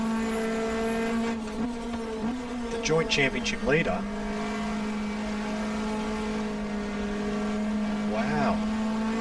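Race car engines in the GTR2 video game at Phillip Island, a steady droning tone with quick revving sweeps of passing cars, under a commentator talking throughout.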